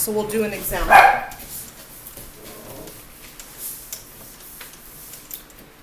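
A few dog barks ring out loudly near the start, then fade into a quieter indoor room where a person talks.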